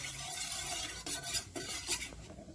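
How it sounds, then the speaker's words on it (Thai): Flour batter is stirred in a small pot over a low gas flame while making a dessert to go with mango sticky rice. Close, continuous scraping strokes are mixed with soft bubbling, with a few brisker swipes partway through. "หลังจากนั้นตั้งแก๊สคนให้แป้งสุก"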